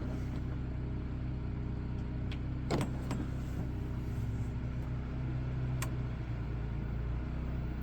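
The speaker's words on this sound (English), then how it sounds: "I've already got the generator going outside" Portable generator running outdoors, heard as a steady low mechanical hum and drone throughout, with a few brief clicks and knocks close by and no talking.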